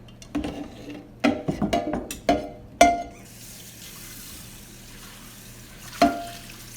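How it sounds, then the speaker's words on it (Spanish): Raw chicken washed under a running kitchen tap, with irregular splashes and clatter in the sink for about three seconds, then quiet, then one last splash. "Voy a lavar el pollo para poderlo hervir con agua y ajo."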